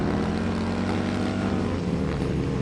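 Harley-Davidson CVO Road Glide bagger motorcycles racing on a track, a dense continuous engine roar with steady droning tones, loud and unbroken throughout with no talk.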